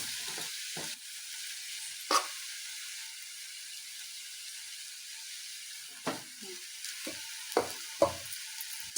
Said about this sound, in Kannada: ಮತ್ತೆ ಎಲ್ಲ ಫ್ರೈ ಮಾಡ್ಕೊಂಡು ಸ್ವಲ್ಪ ಚೆನ್ನಾಗಿ ಫ್ರೈ ಮಾಡ್ಕೊಳ್ಳಿ